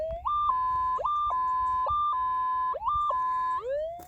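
A metal detector gives a trashy signal while gold prospecting, producing warbling electronic tones that jump between pitches in a choppy, broken pattern, loud and close, with no talk.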